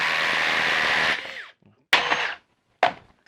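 A Makita cordless impact driver runs in a loud, steady whir for over a second, then spins down, followed by two shorter, sharp bursts of the driver, close up with no talk.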